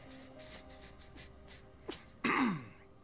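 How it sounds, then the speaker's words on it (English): A single harsh cough from a video game character bursts out near the end, loud and close, after a stretch of quiet ambient sounds and faint clicks. "He just coughs random, bro."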